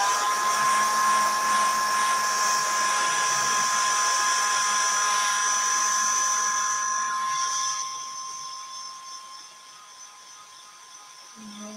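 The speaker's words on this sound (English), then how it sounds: "I'm going to give that a blast dry because clearly I can't flip it until that is struck" Dryer blasting air over a wet craft piece, a loud steady high-pitched whine and rushing hiss held for about eight seconds before dropping to a quieter level.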